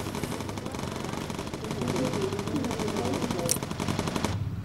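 Sustained rapid machine gun fire from a bomber's gun turret in the Bomber Crew game, a dense steady rattle lasting several seconds that stops abruptly near the end.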